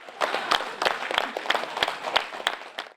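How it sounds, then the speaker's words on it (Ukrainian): Council deputies in a session hall applaud a departing former head, with sparse, distinct individual claps ringing out in an uneven rhythm over a steady patter of clapping. "Депутатський корпус проведжає екс-голову оплесками. Аплодують навіть опоненти."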